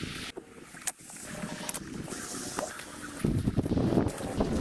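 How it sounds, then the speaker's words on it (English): Strong wind blows through a pine forest in gusts that build into louder, rushing buffeting against the microphone. Brief clicks and handling noises come through. "It's like super windy out"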